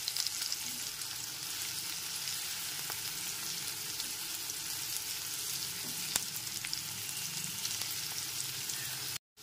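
Chopped onions lightly frying in a pan over a low-to-medium gas flame, a steady soft sizzle that runs evenly and fairly quietly, with no voices.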